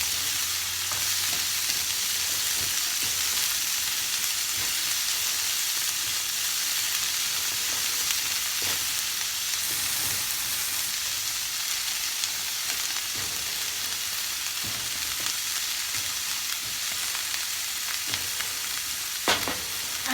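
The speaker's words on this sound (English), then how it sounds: "And we fry them till golden brown on little bit on high flame." Chopped onions frying on a high flame for an egg curry give a loud, steady, close hiss of sizzling oil throughout, broken by occasional soft scrapes of stirring.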